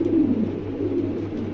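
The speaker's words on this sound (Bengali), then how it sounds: "চমৎকার এক জোড়া কবুতর, অ্যান্ডোলেশিয়ান মেল" A pair of Andalusian pigeons makes soft, low, throaty cooing close by, a steady murmuring call that rises and falls across the short stretch, with no voices.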